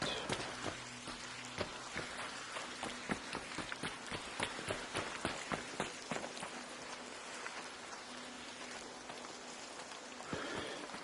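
Steady rain falling in the video game Arc Raiders, a dense continuous patter filling the scene with scattered sharper drops and taps over it, moderately loud and close, with no talking.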